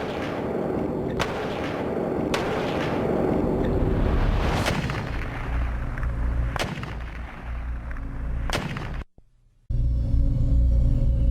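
A Barrett rifle fires several heavy, booming shots spaced a second or two apart, each echoing and rolling off at an outdoor range, loud and close, with a brief cut near the end.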